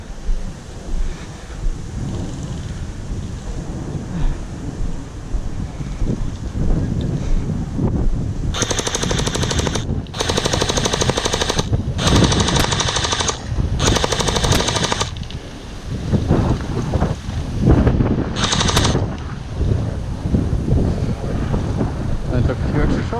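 Bursts of rapid fire from a JM ACR gel blaster rifle cut in and out in several short volleys over steady wind noise and outdoor background, loud and close.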